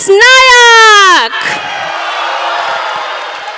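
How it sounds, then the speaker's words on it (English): Convention crowd greeting a live speed painter with a loud, rising whoop from one voice, followed by a dense, sustained hiss of clapping and cheering from the audience. "a big shout out and a big round of applause for none other than the speed painter artist, Vilas Nayak"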